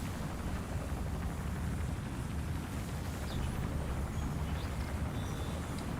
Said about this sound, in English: Start it up. Engine's firing.